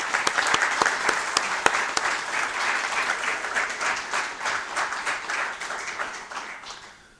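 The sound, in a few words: applause for the outgoing county executive and staff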